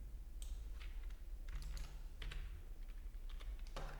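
Computer keyboard keys tapped during work at a desk: a handful of soft, scattered clicks in an irregular rhythm, close but quiet, with no talk.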